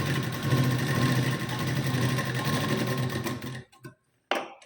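A sewing machine stitches a size 32 katori blouse, running loud and steady up close for several seconds. It then stops abruptly, followed by a couple of sharp clicks and a short final burst.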